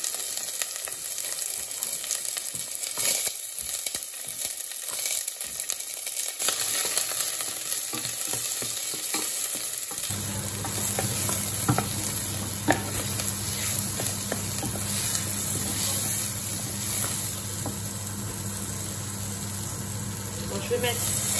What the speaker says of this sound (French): Je vais faire rissoler les oignons.